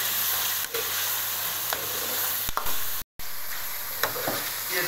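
Crushed red chilli and spices are stirred into a pot of sizzling Punjabi degi chicken curry, giving a close, steady frying hiss broken by occasional scraping stirs.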